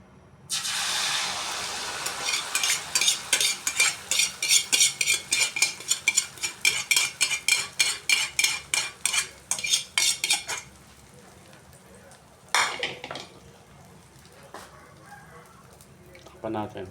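Eggs sizzle in a little oil in a pan while a utensil scrapes and stirs in a fast, steady rhythm. A lid clatters near the end, and a voice talks over the cooking.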